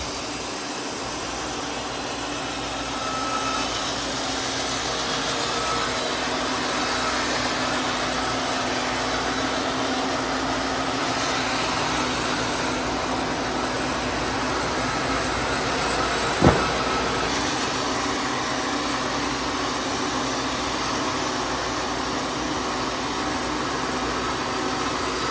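A sawmill blade cuts a rough log into thick tabletop slabs with a continuous broad, droning roar that holds steady throughout. One brief sharp knock comes partway through.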